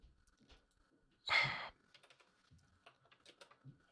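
Computer keys clack in a short burst of typing, then scattered quiet taps and a soft breath follow, close and fairly faint.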